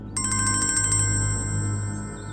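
A phone ringtone sounds for an incoming call: a bright electronic tone pulses rapidly for about a second, then holds steady and fades over a low background hum, with no talking.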